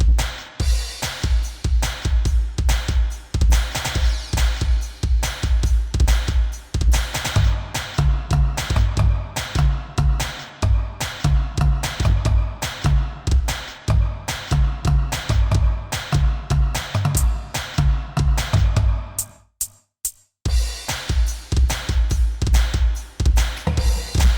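An Alesis electronic drum kit recording playing a steady groove with punchy kicks and snare hits, loud and continuous, with a brief dropout near the end before the beat resumes.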